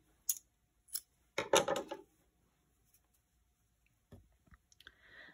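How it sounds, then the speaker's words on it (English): Scissors snip through crochet yarn in a few sharp, close clicks, with a brief cluster of cutting sounds and then quiet handling of the finished granny square motif. "We're gonna cut our yarn."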